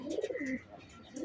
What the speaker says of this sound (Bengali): এই যে এখানে একটা কবুতর দেখতে পাচ্ছেন,